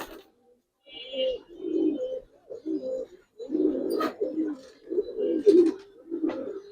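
A coloured Giribaz pigeon coos close by in a run of repeated throaty, rolling phrases with short pauses between them, with no other voices over it.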